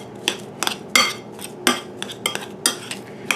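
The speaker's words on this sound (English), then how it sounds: "We're just going to mash it with our spoon, just so we don't have any big chunks anymore." Metal spoon mashing cooked potato for gnocchi in a bowl, giving a series of close, irregular scraping clinks and dull knocks against the bowl, about a dozen strokes with short pauses between them.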